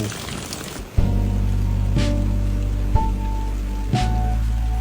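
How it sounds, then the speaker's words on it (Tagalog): Dense, steady hiss of heavy rain pours throughout, loud and close, with a few soft thumps and a low hum beneath. "Grabe, ang lakas ng ulan."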